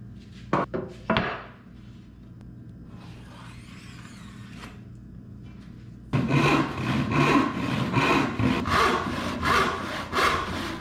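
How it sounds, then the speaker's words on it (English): Hand saw ripping through a wooden board, starting after a few knocks and a quiet pause, then a loud, steady rhythm of rasping back-and-forth strokes, close up. "As I'm sawing, I flip the board and cut from both sides, which helps keep the cut straight."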